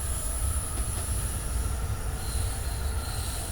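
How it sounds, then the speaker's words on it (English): An E233-3000 Utsunomiya line electric train runs steadily in a railway simulator game, with a continuous dense rolling rumble and a thin high-pitched whine held throughout, loud and close, with no voices. "We're racing another Utsunomiya line train."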